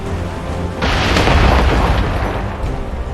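Naval cannon fire from a sailing warship in a video game sea battle, a sudden loud boom that swells into a rumbling, sustained roar of blasts lasting a couple of seconds before easing off.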